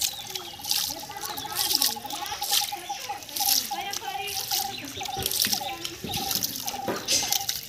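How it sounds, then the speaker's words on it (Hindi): Water is splashed and sloshed over a toy tractor trolley during a washing, with repeated trickling, dripping and splattering bursts alongside a steady tonal hum, while a person talks over it. "फेंक फेंक पानी फेंक कुलीन पे फेंक।"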